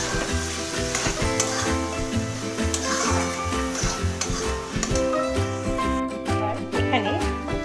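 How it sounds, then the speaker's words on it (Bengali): Bottle gourd and prawns with a little sugar are stirred in a pan, giving a steady sizzle with scraping and clinking from the utensil against the pan over background music. "এবার ভালো করে মিশিয়ে নেব।"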